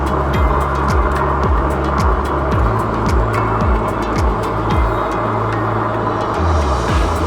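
Engwe E26 full suspension all-terrain electric bike ridden at speed outdoors, with a loud continuous rush of motor whine and road or wind noise and repeated rising and falling tonal sweeps.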